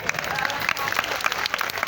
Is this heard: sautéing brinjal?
no